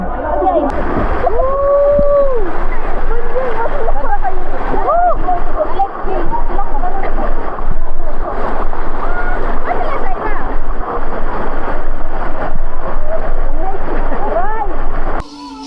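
Splashing water from a person swimming butterfly stroke, rough sloshing strokes continuing steadily and close, with voices chattering and calling over it throughout.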